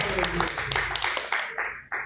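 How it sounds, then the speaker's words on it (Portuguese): Church congregation clapping during a live service, a short burst of rhythmic hand claps under a speaking voice that fades out after about two seconds. "glorifiquem ao Senhor com as palmas bem fortes"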